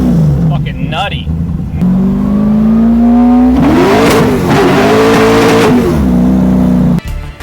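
A racing engine, a 447 cubic inch Ford Windsor V8, revs hard in a loud, close burst, climbing in pitch and holding a high roar before dropping back, with people talking beneath it.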